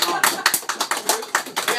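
People clap at a Galtholmen MC motorcycle club party in Trondheim, a quick run of rhythmic hand claps mixed with voices talking at the same time.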